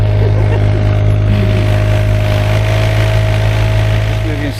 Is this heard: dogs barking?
no